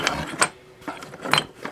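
Metal parts of a 1967 Honda CL90 motorcycle shifter drum being handled, with three short clinking, rattling bursts spaced apart, close and fairly quiet.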